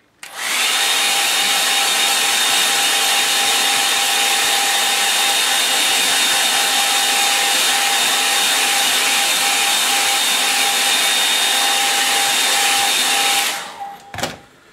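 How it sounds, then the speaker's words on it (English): A hair dryer blows loudly and steadily for about thirteen seconds with a constant whine, then switches off. "I'll give that a bit of a dry, hair dryer on."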